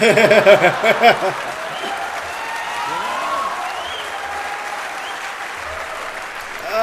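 Audience applause at a George Carlin stand-up show, a dense burst of clapping loudest at the start and settling into steady, lighter applause, with a voice briefly heard over it.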